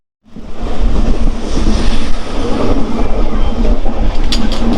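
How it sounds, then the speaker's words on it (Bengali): The Rangiya to Silchar Express rolls along at speed, a loud, continuous, close rumble and rattle of wheels and carriages with faint clatter throughout. "আমি এই মুহূর্তে একটি ট্রেন জার্নি করছি, রাঙ্গিয়া টু শিলচর এক্সপ্রেস।"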